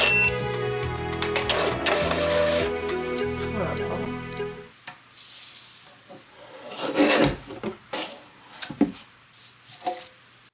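A paper guillotine trimmer slices through paper with rough, rasping strokes, close and fairly loud, after a stretch of busy background sound in a small home studio.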